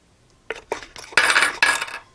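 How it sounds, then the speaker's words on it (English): A metal mason jar lid being put back on and fastened: a few light metallic clicks and taps, then two brighter scraping, rattling clinks of metal against glass, close and fairly loud. "I'm going to reinsert the lid. Right like that. And attach it to our jar."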